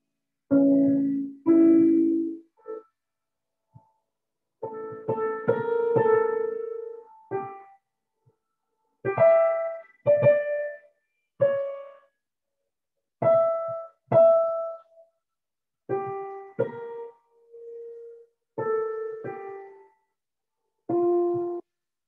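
Piano playing the largo from Beethoven's Tempest Sonata with the sustain pedal held down, sparse chords and single notes ringing out and blending, separated by pauses, alone without talk.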